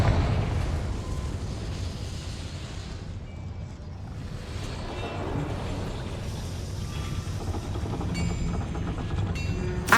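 Confringo blasting spell in Hogwarts Legacy: a loud roaring explosive blast with a rumbling, fiery tail, followed by further crackling bursts and pops.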